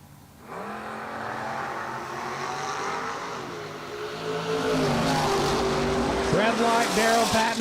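Drag racing roadsters launching down a drag strip, engines droning and rising in pitch as the cars accelerate away, with an announcer talking over the roar.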